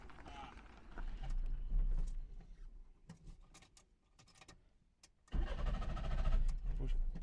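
A Trabant's small engine cranks and catches: low rumbling turnover, a lull with voices talking, then a sudden louder idle that keeps running under the speech.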